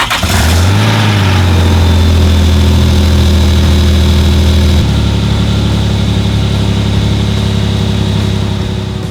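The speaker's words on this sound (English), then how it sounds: "now I'm just going to start the vehicle and just give the pedal a couple pushes" A Nissan Pathfinder engine cranks and catches, then settles into a loud, steady idle that rises briefly and shifts pitch midway, close and continuous throughout.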